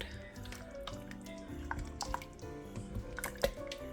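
Swedish meatballs are stirred inside an Instant Pot, giving close wet squelches, soft drips and small clinks from the utensil against the pot, scattered irregularly over a low background hum.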